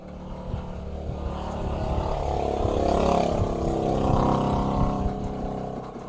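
A motorcycle engine runs nearby with a steady, low droning rumble that swells louder through the middle and eases off again toward the end.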